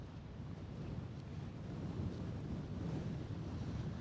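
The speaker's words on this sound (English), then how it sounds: "you can see the waves as they roll along right here" Waves wash in steadily, a broad surf roar mixed with wind rumble on the mic, swelling slightly midway, no voices.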